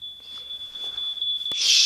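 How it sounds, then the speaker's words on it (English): A smoke detector with a low battery emits a continuous shrill electronic tone, close and fairly loud, with a rustling hiss swelling near the end. "Shut up, smoke detector."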